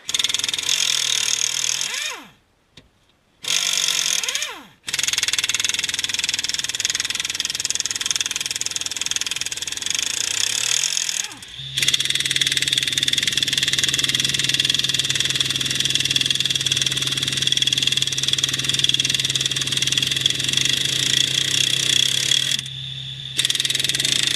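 Pneumatic air gun and air compressor working on a tire of a 1969 Lincoln Continental outdoors, a steady loud mechanical drone with brief cutoffs and bursts, running almost continuously and close by.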